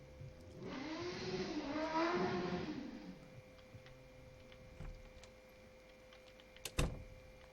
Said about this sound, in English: some people attempting to kill themselves on motorbikes outside my house